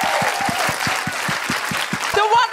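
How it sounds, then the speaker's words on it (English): Live audience applause at a podcast recording at the BFI, a steady wash of clapping with a few whoops, loud and close, with a regular low thumping underneath. "Okay, just a big round of applause and thank you to the BFI for having us."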